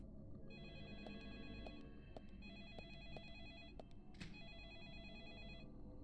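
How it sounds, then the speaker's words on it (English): A telephone rings repeatedly in bursts of electronic bell tones over a steady low background hum, with one brief sharper chime near the end, in the video game Deadly Premonition: The Director's Cut. "While the phone keeps ringing"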